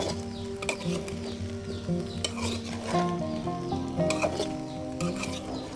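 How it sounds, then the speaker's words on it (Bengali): Fish curry masala of tilapia and okra, with turmeric and chili powder, sautés in a pan with a soft constant sizzle and rhythmic scraping stirs, while a steady tonal hum runs in the background. "মরিচ গুঁড়া, এবার এটাকে আমি একটু কষিয়ে নিব।"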